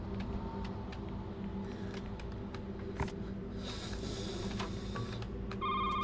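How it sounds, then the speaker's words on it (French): A telephone rings in the video game Shift at Midnight, repeated electronic ring bursts over a steady low game hum with scattered clicks, getting louder near the end. "Répondez au téléphone."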